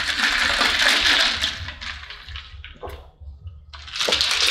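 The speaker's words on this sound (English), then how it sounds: "when I hear the sizzling and the popping and the bubbling of the water, it just, I don't know, it just calms me down" Water fizzing and bubbling in a drink with ice at a Jamaican restaurant meal, a close hissing, crackling rush that fades midway, turns to faint popping, then swells again.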